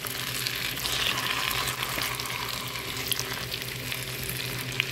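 Potatoes frying in a pan for a kofta kebab gravy, a steady close sizzle and crackle throughout with a few light stirring scrapes, no talk.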